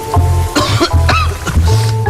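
A man coughs several times in quick, harsh bursts close to the listener, with some throat clearing between them.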